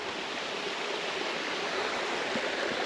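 A waterfall beside the Appalachian Trail, a steady close rush of falling water that stays even and unbroken throughout, with no voices.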